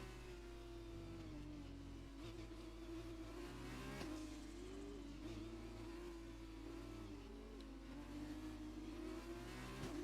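F2 race cars in a video game accelerate at a green-flag restart in China, a continuous high engine whine with pitch rising and shifting through gears, several cars droning together at a steady moderate level.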